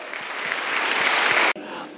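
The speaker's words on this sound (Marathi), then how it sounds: "आपण म्हणून टाळ्या वाजूया," The congregation at Shiloh Church of Christ claps together in a steady rhythm, a loud, full wash of applause that breaks off sharply and then resumes briefly.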